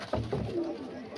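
Domestic pigeons kept for sale in a pigeon house let out a brief, soft throaty coo, close and alone.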